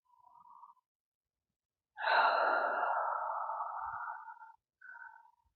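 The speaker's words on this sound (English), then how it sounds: "You definitely hear breathing." Slow breathing sounds close to the microphone: a brief faint breath, then a long drawn exhale after a pause, followed by another short breath, in an otherwise silent room.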